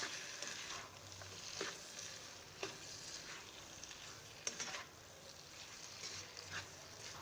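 Soft sizzling and stirring of keema karela masala, minced meat with bitter gourd, in a pan, with faint scraping spoon strokes and light crackle at low volume.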